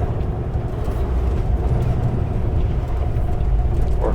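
Pickup truck passing on a rural mountain road, heard from inside a moving semi truck as a steady broad road and engine rumble.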